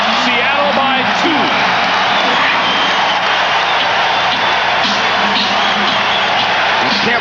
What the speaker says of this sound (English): And the Sonics have the crowd into the game.